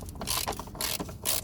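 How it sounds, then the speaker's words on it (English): A 13mm socket ratchet loosening a clamp during a service on a BMW E90 320 diesel, heard as bursts of rapid, loud ratcheting clicks close by, repeated in quick strokes. "it's a 13mm socket we need to use on it to undo it."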